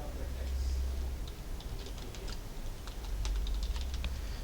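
Quick bursts of computer keyboard typing while writing PHP code: light, closely spaced key clicks over a low room hum, with a voice faintly present.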